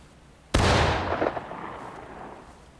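A single loud musket shot from the Civil War game War of Rights, a sharp crack followed by a long rolling echo that fades over two seconds.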